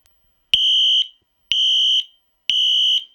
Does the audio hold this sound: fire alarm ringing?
yes